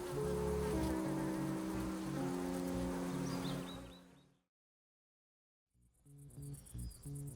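Bees buzzing around hives, a dense droning hum that holds steady for about four seconds, then cuts to silence before a quieter buzz returns near the end.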